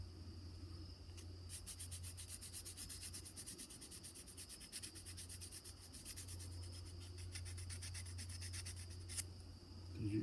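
Rust is scrubbed off the blade of a vintage Norse King Mora knife in rapid, close back-and-forth rasping strokes that run in steady bursts, with a brief pause partway through.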